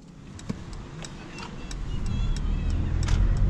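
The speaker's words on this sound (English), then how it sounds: "And there you hear the engine kicks in." A 2021 Mercedes-Benz E300de diesel hybrid sedan's engine starting up while driving, a low rumble that builds steadily over a few seconds beneath faint cabin clicks.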